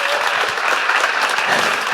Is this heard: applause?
yes